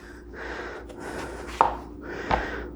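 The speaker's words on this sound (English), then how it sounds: "then we're going to cut our eggplant slices" A knife cuts eggplant into slices on a board, giving two sharp, close chops about a second apart over soft breathy background noise.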